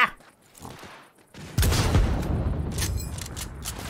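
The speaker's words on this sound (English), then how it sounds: "Where's that guy shooting from?" Gunfire in Cyberpunk 2077, a few faint shots at first, then a sudden loud, close burst of rapid shots and impacts that keeps going to the end.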